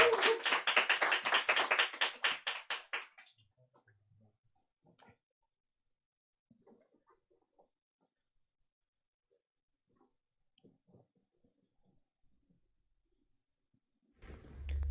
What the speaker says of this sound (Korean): 다 같이 축하의 박수 한번 하겠습니다.